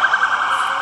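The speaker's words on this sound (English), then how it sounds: "that's an ambulance" An ambulance siren wails steadily at a distance, its high tone holding across the moment against faint background hiss.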